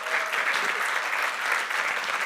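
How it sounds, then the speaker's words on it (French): Church congregation applauding to encourage a man named Marc during a Sunday celebration service, dense sustained clapping from many hands at an even level throughout. "On pourrait applaudir pour l'encourager"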